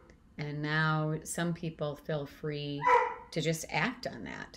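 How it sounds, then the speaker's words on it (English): Someone speaks steadily on a video call while a dog barks in the background, with short repeated barks and yips mixed in under the voice. "Sorry about my dog barking in the background."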